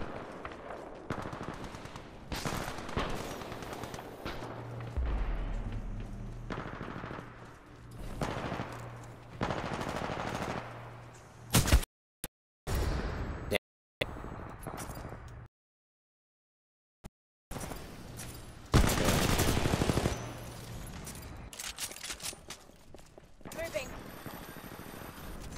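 Rapid automatic weapon fire from Titanfall 2 comes in repeated bursts and fusillades with short pauses and brief silent gaps, while a voice talks over much of it.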